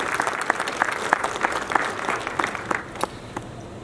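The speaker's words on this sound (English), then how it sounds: "So we can give you a round of applause." A crowd at a basic academy graduation ceremony applauds, a dense steady patter of many hands with sharper individual claps standing out, gradually thinning toward the end.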